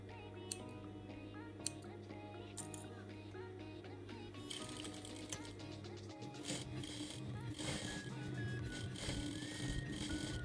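A sewing machine stitches a fabric strip for a waist corset. A low hum and sparse clicks give way to a faint, fast, continuous mechanical ticking and whirring, heard from close by but at low volume.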